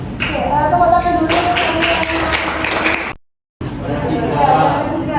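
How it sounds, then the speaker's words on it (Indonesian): A classroom audience claps after a group presentation, a steady ragged patter of hands mixed with chatter, cut by a brief silent gap before resuming. "Oke, tepuk tangan dulu."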